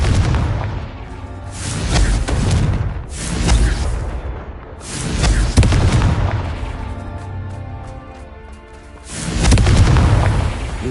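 Confringo blasting spells cast in Hogwarts Legacy burst as loud, deep booms, several in succession with rumbling tails and a final heavy blast near the end.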